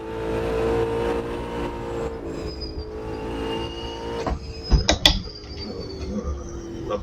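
An Ultima race car in Automobilista 2 revs and pulls away, its engine droning steadily before a sharp burst of mechanical clunks and a rising surge of acceleration.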